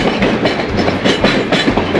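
Riding aboard a museum rail car, a loud continuous rumble fills the space while wheels beat out a rhythmic clickety-clack over the track joints.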